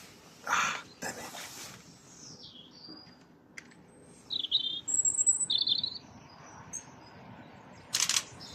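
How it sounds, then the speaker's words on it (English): A robin calls in a country park near reeds, with a few short high chirps and trills scattered over quiet outdoor ambience, fairly faint and close; brief rustling or clicks come between the calls. "But yeah, there's a robin."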